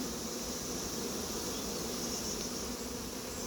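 A honeybee swarm drones continuously around a cardboard box, a dense and even buzz that holds steady throughout with no voices.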